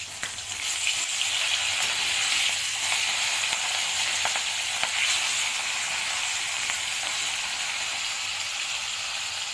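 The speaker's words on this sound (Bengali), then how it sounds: "এখানে মাছ ভাজা বসিয়ে দিয়েছি" Fish frying in a pan in a home kitchen, a steady close hiss and crackle of hot oil that runs evenly throughout, with a few faint pops and no talking.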